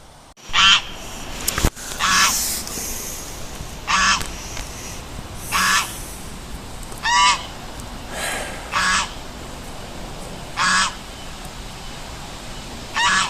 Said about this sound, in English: I had to put up with this all night. Shut up, Goose.